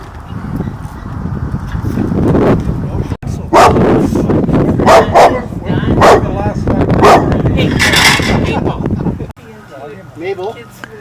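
A dog barks repeatedly in short bursts outdoors on a neighbourhood lawn by the sidewalk, loud and close, amid people chatting and wind.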